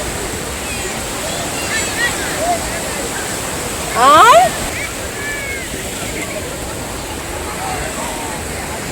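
Sea waves at Bakkhali beach washing in as a continuous broad rush of surf, with people talking and calling out over it and a brief louder splash near the middle.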